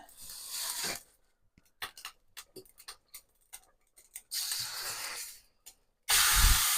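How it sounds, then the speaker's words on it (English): Three bursts of aerosol cooking oil spray hiss close by onto a pan, separated by light clicks and clatter of the pan, the last burst loudest. "Let's spray this side ready to go."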